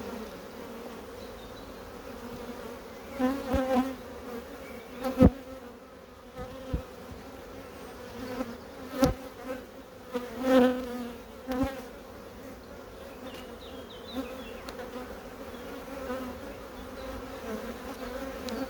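A honeybee colony hums steadily at an open beehive, a close, continuous buzz with individual bees flying past now and then and occasional handling knocks, and no one talks.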